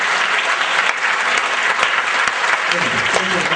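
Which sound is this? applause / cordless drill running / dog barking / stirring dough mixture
applause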